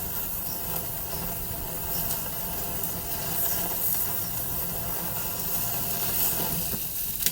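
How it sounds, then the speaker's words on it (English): A picanha steak searing on a hot grill, a dense continuous hiss and sizzle that stays steady and close throughout. "This is how you sear a steak off right."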